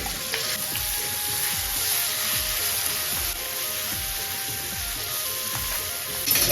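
Pieces of liver fry in oil with a little onion in a home kitchen, a steady close sizzle with faint scraping and stirring bumps throughout.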